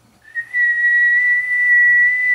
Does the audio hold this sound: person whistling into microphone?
yes